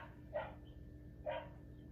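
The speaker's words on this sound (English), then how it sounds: "we get Rusty barking right at the front" Two short, muffled dog barks about a second apart from a children's animal sound book, faint and slightly electronic-sounding over a low steady hum.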